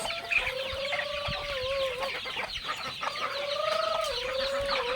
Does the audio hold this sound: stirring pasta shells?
no